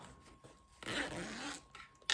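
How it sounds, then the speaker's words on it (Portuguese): A zipper on a sewn tote bag is drawn open in one quick rasping pull lasting under a second, close by, followed by a short sharp rustle at the end. "Vou abrir o zíper aqui, ó."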